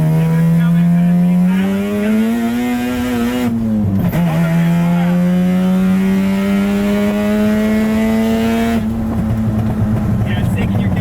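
A Mazda RX3 wagon's rotary engine held at about half throttle, a loud buzzing drone climbing steadily in pitch, dipping briefly at a shift, then rising again, with voices talking over it.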